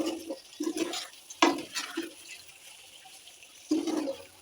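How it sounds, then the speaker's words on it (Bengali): Olive pickle being stirred in a sugar syrup, with wet sloshing and scraping strokes coming in short uneven bursts and a sharp knock partway through. "সুন্দর করে নেড়ে চেড়ে মিশিয়ে নিচ্ছি।"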